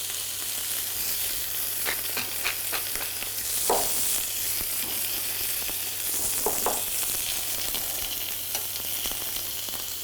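Lamb noisettes fry in a knob of butter in a frying pan, giving a steady close sizzle throughout with a few brief clinks and scrapes from the pan.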